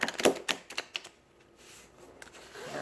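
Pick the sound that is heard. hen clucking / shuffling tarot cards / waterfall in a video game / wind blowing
shuffling tarot cards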